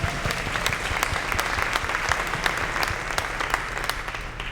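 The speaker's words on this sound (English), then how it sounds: "Can we get a round of applause for Harlan?" An indoor audience at a school leadership day claps steadily, dense and close, a continuous wash of many hands that holds evenly throughout without pause or cheering.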